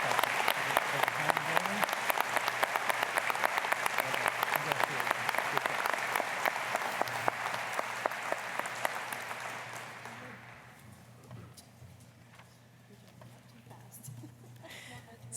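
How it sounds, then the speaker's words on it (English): Loud, dense applause from a convocation audience honouring a graduate at a University of Saskatchewan spring ceremony, sustained for about ten seconds before fading to scattered claps and room murmur. "please give him a great round of applause"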